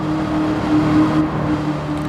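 A huge V8 race car engine of nearly 1200 horsepower in Gran Turismo 7, a loud steady droning hum at sustained revs, heard alone.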